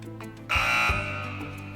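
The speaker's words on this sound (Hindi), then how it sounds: "तो बजर एनेबल कर दूं मैं।" Electronic quiz buzzer pressed during a live religious knowledge quiz show, a loud sustained buzz that cuts in abruptly after a quiet moment and holds steady for over a second before easing slightly.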